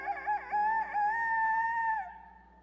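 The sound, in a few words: person imitating a rooster crowing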